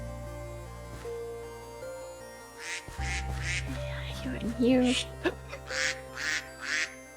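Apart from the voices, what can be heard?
duck quacking in Minecraft video game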